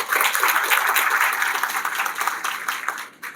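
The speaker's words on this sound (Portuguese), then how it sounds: "Uma salva de palmas." Audience at an animal science symposium in Ceará applauding, a moderately loud burst of many hands that thins and fades near the end.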